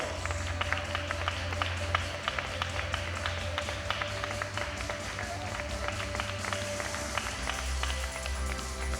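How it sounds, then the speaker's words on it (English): Audience at a women's 47–52 kg world open equipped powerlifting championship clapping steadily throughout, a dense even patter of many hands, with a low rumble beneath. "Okay, give it a hand. Big applause."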